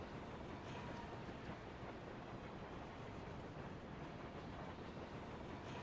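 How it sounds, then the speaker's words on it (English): A tram ride in World of Warcraft, a steady rumbling, rushing roar of rail travel that continues evenly throughout with no pauses or voices. "This is the longest tram ever."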